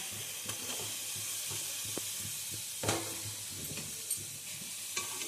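Green chillies and tomatoes hit a pan of oil-free chicken and sizzle with a soft, steady hiss, broken by a few sharp clinks and scrapes of stirring. No one speaks.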